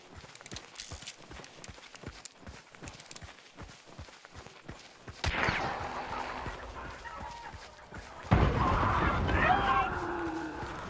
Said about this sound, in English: It appears that my friend likes to do some firework works.